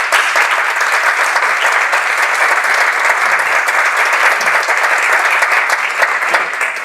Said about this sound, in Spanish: Yo creo que le podríamos dar un aplauso a todos ellos.